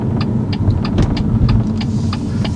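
Automatic car gently braking into a left turn, a steady low engine and road rumble from inside the cabin with faint repeated ticking, likely the indicator, running continuously throughout.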